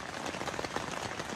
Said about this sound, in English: Now the rains have finally come.